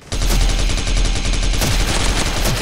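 Gunfire from the X-Mas Neon Guitar gun in the video game Special Force: a loud, sustained burst of rapid automatic shots in a fast, even rhythm, running for about two and a half seconds with no talking.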